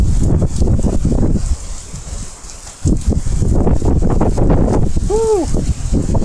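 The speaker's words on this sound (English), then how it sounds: "Wind gusts are flowing over me." Gusty wind roars across the microphone during a thunderstorm at an outdoor grill, with rain in the gusts, swelling and dropping in waves. A brief bird-like chirp sounds near the end.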